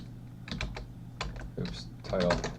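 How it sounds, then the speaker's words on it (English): Quick bursts of keystrokes on a computer keyboard come in irregular clusters at close range, with a faint voice murmuring in the background between them. "we're just going to type in no title"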